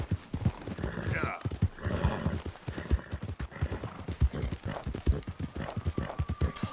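Horse hooves clip-clop steadily on the ground in the Red Dead Redemption 2 video game, a rhythmic run of hoofbeats with a whinny mixed in, playing under ongoing talk.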